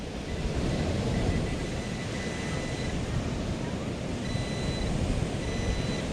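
Faint thin electronic tones of a metal detector signal sound intermittently over loud steady wind and surf noise on a beach.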